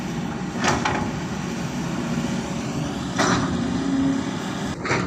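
Kobelco SK200-8 Super excavator at a pond dredging site, scraping and digging soil and laterite, with a steady diesel engine drone throughout and a few brief scraping bursts from the bucket.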